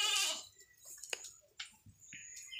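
Goats on a farm bleat in short, scattered calls, several overlapping at moderate distance over a quiet background, with a louder cry at the start.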